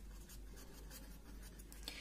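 Marker or chalk writing on a classroom board during a chemistry lecture on osmotic pressure, a quiet run of short scratchy strokes over a low steady hum, with no talking.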